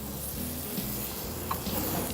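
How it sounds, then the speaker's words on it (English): A scallop sears in a hot pan, giving a soft, steady sizzle with faint crackles throughout a brief stretch, quiet and close with no talking. "I'm gonna get the scallop and you're gonna hear a sizzle."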